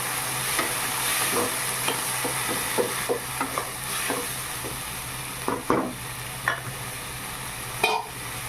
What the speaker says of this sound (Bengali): এবারে জল দিয়ে সামান্য নেড়ে চেড়ে নিলাম।